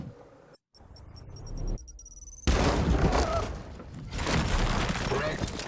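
Frag grenades go off in the video game Warhammer 40K Daemonhunters: a quieter stretch, then loud, dense explosive bursts with crackling debris that hold for several seconds.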